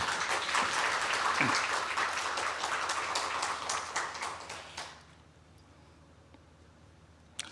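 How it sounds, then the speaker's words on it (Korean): A church congregation applauding loudly and steadily for about five seconds during a sermon, then fading out to near silence with a faint click at the end. "우리 박수를 한번 할까요?"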